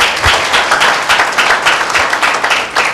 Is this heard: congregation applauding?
yes